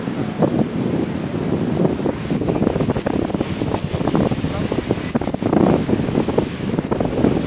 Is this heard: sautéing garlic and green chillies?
no